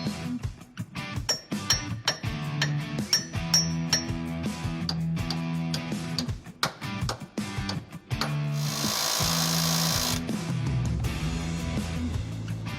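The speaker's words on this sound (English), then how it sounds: "I'm just going to tap this in position until I get the holes to line up. I'm using a soft copper mallet so I don't damage anything." Soft copper mallet tapping a suspension part into position on a project car in a garage, a run of sharp metallic clinks and knocks in irregular bursts, close and fairly loud, with a steadier whir of a shop tool joining near the end.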